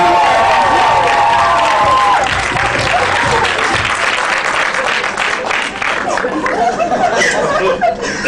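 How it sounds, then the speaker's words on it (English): An audience applauds for Miss Georgia, Susan, at a backstage stage-play performance, the clapping loud and sustained with some cheering and chatter mixed in, and a brief whistle-like tone early on. "Let's have a round of applause for Miss Georgia"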